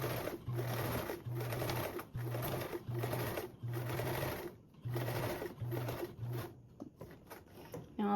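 A sewing machine stitches binding onto a convertible duffle bag with an eighth-inch seam. It runs in about eight short, even bursts of rapid whirring separated by brief pauses, close and steady, with no talk.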